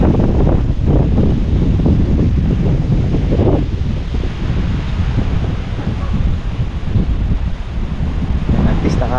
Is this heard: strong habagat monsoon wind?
yes